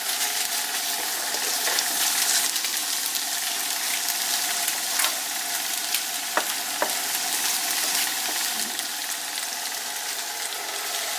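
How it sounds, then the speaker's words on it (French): Gnocchi frying in melted butter in a pan, giving a steady, dense sizzle with occasional sharp pops and crackles, fairly close and continuous with no talking. "Je connaissais pas cette technique là de faire cuire des gnocchis dans du beurre."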